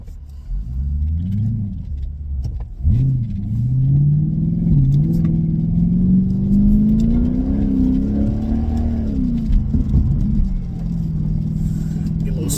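Mercedes CLK 500 driving on a wet road, a steady low engine rumble with rising and falling revs and faint tyre hiss, heard from the cabin throughout.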